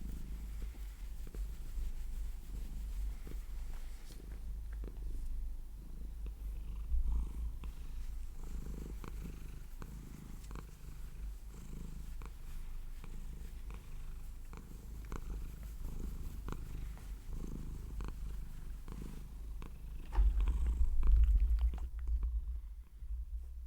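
A cat purrs steadily, a low continuous rumble held close and amplified for about twenty-four seconds, with faint scattered clicks and rustles over it and no talk.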